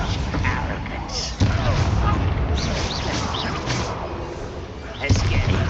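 Bombarda blasting spell explosions from Hogwarts Legacy, a dense, loud barrage of booming blasts and crashes across a busy combat scene, with sharp impacts near the middle and end and voices talking throughout.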